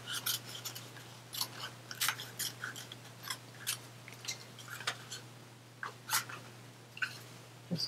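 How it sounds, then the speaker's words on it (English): Scissors snipping paper strips of polka dots and stripes for a fan card, a series of crisp close cuts in an uneven rhythm over a low steady hum, no talk. "I'm just going to cut these down and even them out."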